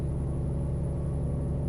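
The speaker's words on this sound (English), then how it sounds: "it's the traffic that's going by on the left side of the freeway" Freeway traffic passing alongside a truck in American Truck Simulator, a steady deep engine rumble and road drone, loud and close, with no talking.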